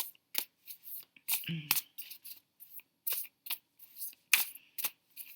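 Crisp, snappy flutters and riffles of cards being shuffled come in short irregular bursts, close and quiet, with a brief low murmur partway through.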